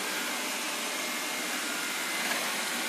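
A Mi Smart robot vacuum cleaner runs steadily in a home, giving a constant broadband whirring hiss with no talk.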